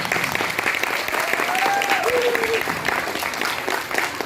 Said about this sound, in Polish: Ogromne brawa, ogromne brawa.